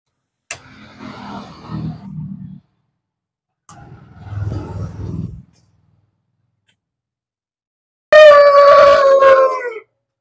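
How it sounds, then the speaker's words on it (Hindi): A Yamaha FZ motorcycle with a freshly repaired self-starter: two rough starter bursts of cranking, a pause, then the engine catches and revs loudly with a strong tonal whine before cutting off. "अब आइए आपको दिखाते हैं स्टार्ट करके गाड़ी।"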